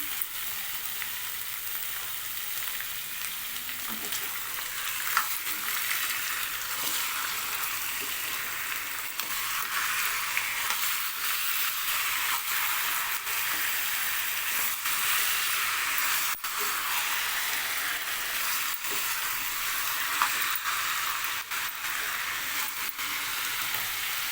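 Boneless chicken gravy fries in a pan with a steady hissing sizzle, close and constant, under occasional faint stirring clicks. No one speaks.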